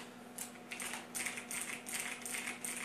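Typing on a Razer BlackWidow Tournament Edition Stealth 2014 mechanical keyboard, a steady run of crisp key clicks in quick bursts, close and fairly quiet over a faint steady hum.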